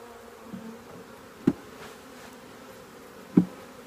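Honey bees at a backyard hive at an off-grid cabin buzz in a low, steady drone nearby, broken by a few sharp close knocks or bumps.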